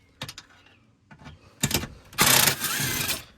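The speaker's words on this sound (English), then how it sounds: "You don't need an impact, but I got one." Cordless impact wrench spinning off 8mm bolts on a 2004-2008 Ford F150 during transmission shift cable replacement: a few short rattling bursts, then a louder sustained hammering whir up close, no talk.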